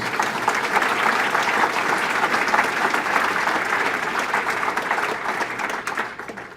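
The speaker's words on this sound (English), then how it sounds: "Let's give the wait staff a round of applause." Loud, sustained applause from a large crowd, steady clapping that fades slightly toward the end.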